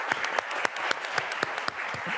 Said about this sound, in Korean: 반기문 전 유엔 사무총장님께 다시 한번 큰 박수 부탁드리겠습니다